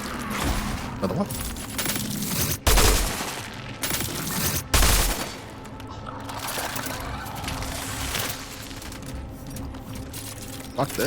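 Gunfire in the horror video game Cronos: The New Dawn, a couple of sharp loud shot bursts among rattling clicks over a dense, constant game soundscape, with a voice talking through parts of it.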